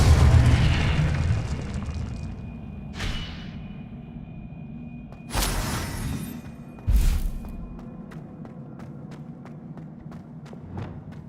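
Confringo blasting spell explosions in Hogwarts Legacy, a loud rumbling burst at the start followed by several sharper booms and crackles, with faint footsteps ticking between them.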